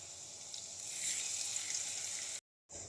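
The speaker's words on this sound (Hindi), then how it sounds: "लहसुन को 30 से 40 सेकंड फ्राई करेंगे।" Finely chopped garlic frying in hot oil in a pan, a faint steady sizzle and crackle with no talking, cut off briefly near the end.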